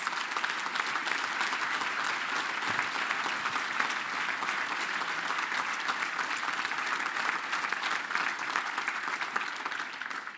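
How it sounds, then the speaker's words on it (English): Continuous crowd applause at the TUI Annual Congress of teachers, a dense, even wash of clapping that holds steady throughout, fairly distant and without pause. "Give yourselves a round of applause"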